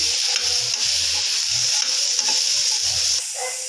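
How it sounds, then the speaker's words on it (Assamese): Soybean chunks fry in a pan with a steady bright sizzle, overlaid by soft rhythmic stirring thumps, close and even throughout with no voices. "এতিয়া মই চয়াবিনখিনি আকৌ অকণমান ফ্ৰাই কৰি ল'ম।"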